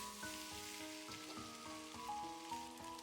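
Eggplant stir-fried with chopped scallion, ginger, garlic and small chili peppers in a hot wok, giving a steady crackling sizzle with rhythmic scraping strokes of the spatula close up throughout.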